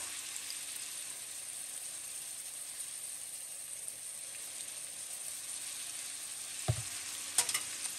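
Garlic paste and ginger paste sizzle steadily in a pan for a chicken stew, a constant even frying hiss with a couple of brief clinks near the end.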